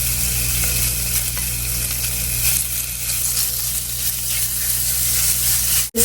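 Crumbled meat fries in a cast iron skillet with a little avocado oil, making a loud, steady, close sizzle and hiss over a low hum that cuts off abruptly near the end.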